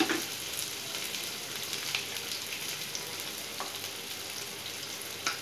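Onion paste frying in a pan for cauliflower bhaji, a faint, steady sizzle with occasional small pops, heard alone without talk.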